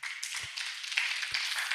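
A church congregation at an Indonesian service claps together in a brief, dense wash of applause that holds steady for a moment.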